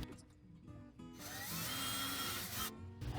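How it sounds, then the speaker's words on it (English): A power drill bores through painter's tape into a wooden kitchen cabinet, a steady high whine rising through the middle of the clip, close and loud, then cutting off near the end. "drill through the painter's tape through the wood"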